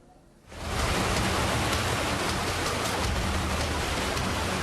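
Heavy rain pours steadily around the upper reaches of a river in Deli Serdang, a dense, loud, continuous downpour that starts abruptly after a brief quiet moment and holds without pause.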